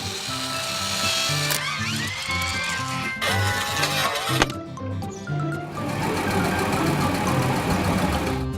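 A cartoon log truck's engine whirs and chugs as it swings its grapple, with mechanical hums and rising whines over a bouncy backing track, plus a sharp clunk near the middle.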